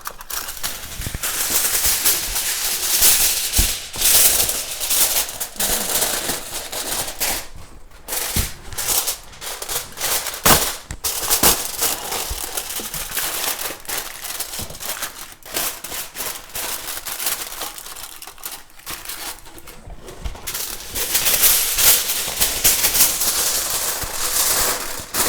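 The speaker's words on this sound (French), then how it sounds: "Je vais couvrir ma dinde avec du papier aluminium." Aluminium foil crinkles and rustles continuously while covering a Christmas turkey in a roasting dish, a loud, dense crackling texture with brief pauses, close up.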